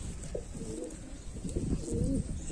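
Pigeons cooing up close in a loft, a steady series of low rolling coos with no talking.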